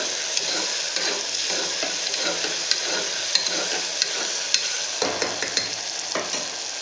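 Beans and peas curry being stirred in a pan, with a continuous close sizzle and repeated scraping taps of a spoon against the pan, and no talking.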